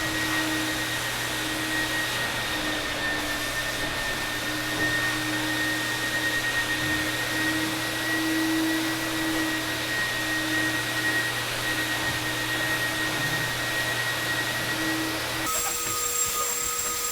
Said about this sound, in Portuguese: Então a gente faz a aspiração agora dessa parte para tirar o excesso daqui